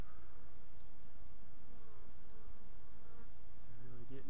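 Steady, dense buzzing of many bees around a bee trap being moved to a hive, continuous and fairly close, with no voices.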